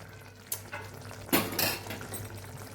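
Stirring a peanut and tomato curry in a pan on the stove: two or three short scraping strokes of a spoon against the pan, with a soft simmering hiss under them and no voices.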